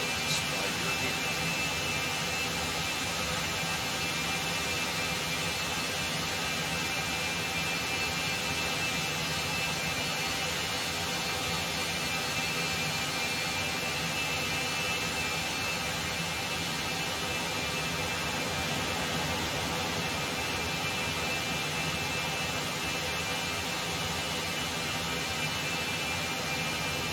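Cessna Citation X jet engines in X-Plane 12 produce a steady, unbroken broadband roar with a faint high whine, constant in loudness throughout.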